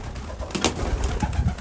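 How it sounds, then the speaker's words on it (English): Racing pigeon cooing inside a loft, a few soft low coos close by with some rustling, no talk. "It's a bird from Joe"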